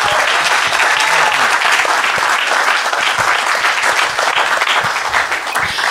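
A loud, sustained wash of applause fills the hall at a live Inside Appalachia show, a crowd clapping densely and evenly throughout with no talking.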